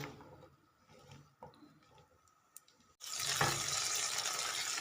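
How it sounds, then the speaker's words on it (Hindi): Garlic and green chillies hit hot oil in a pan: after a few faint kitchen clinks, a sudden bright, steady sizzling hiss starts and keeps going at close range, with no talk. "ऑयल के साथ आप इनको फ्राई करेंगे।"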